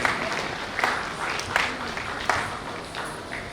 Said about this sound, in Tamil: மீண்டும் உங்கள் பலத்த கரகோஷத்தினை அளிக்குமாறு கேட்டுக்கொள்கிறேன்